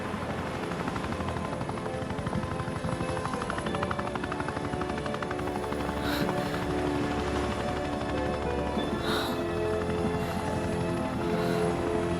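A helicopter sets down on a US Coast Guard landing, its rotor thudding loudly and steadily throughout along with a dense engine roar, with no talking.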